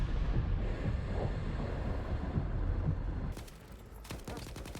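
Gunfire from the Monolith faction in STALKER 2 sounds as loud, dense rumbling bursts of continuous fusillade that then give way to a few sharper, distinct cracks, with no talking.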